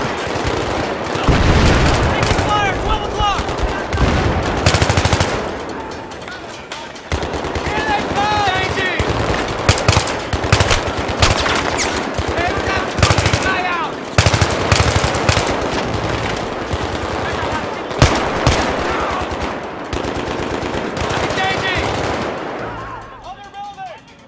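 Heavy Battlefield 3 combat fills the space: machine guns rattle in long, fast bursts mixed with single gunshots and dull booms, loud and close almost throughout, with shouted voices scattered through the firing.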